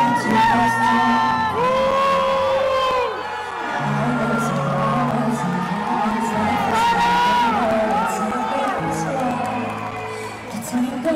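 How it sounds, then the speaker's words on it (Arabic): A large crowd chanting and shouting for Palestine at a Eurovision song rehearsal, loud and sustained, with yells and cheers rising and falling around voices that sing and talk. "هتافات فلسطين كانت محاصراها هي والفريق"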